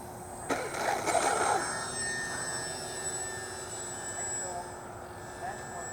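A Cessna 182 Skylane makes a slow, low pass with a steady propeller-engine drone that holds even throughout, heard from the ground. A few knocks sound early on.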